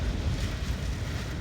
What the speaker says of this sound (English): Now it's just the wind, and the cold follows it